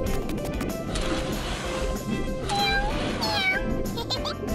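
Cartoon cat meowing in the mobile game My Talking Angela, a few short rising mews over busy game music and effects, fairly close and clear.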